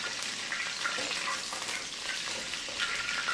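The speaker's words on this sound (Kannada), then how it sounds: "ನೀರೇನು ಇರ್ತದಲ್ವ ಒಂದು ಸ್ವಲ್ಪ ಅದು ಚಟಪಟ ಸೌಂಡು ಅಷ್ಟೇ, ಬೇರೇನಿಲ್ಲ." Puffed rice seasoning sizzling in hot oil, a dense steady crackle and spatter close by that holds at an even level throughout, with no talking.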